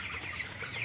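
Broiler chickens on a farm cluck and murmur steadily as a flock, a continuous busy chatter of many birds close by with no clear pauses.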